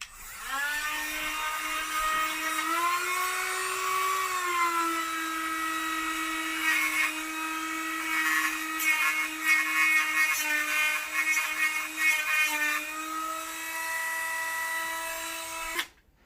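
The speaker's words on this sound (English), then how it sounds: "So I gotta file this down." A hand file rasps steadily against the metal barrel nut of a BCM handguard, a near, continuous grinding scrape with shifting pitch lasting about sixteen seconds before stopping abruptly, with no talk.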